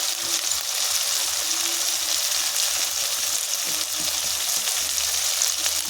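Spice masala for coriander chicken sizzles and fries steadily in a pan as it is stirred, a loud continuous hiss close up with no voices.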